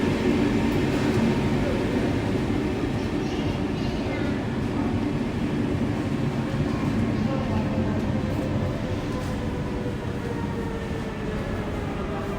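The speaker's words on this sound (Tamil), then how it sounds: "இதுதான் நம்ம போக வேண்டிய ட்ரெயின்" A first-class train in Braunschweig, Germany rumbles at a platform with a constant low drone and rolling noise, while people talk faintly in the background.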